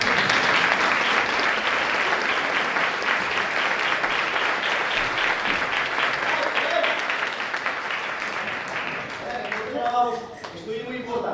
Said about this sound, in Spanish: vamos a aplaudiros para calentar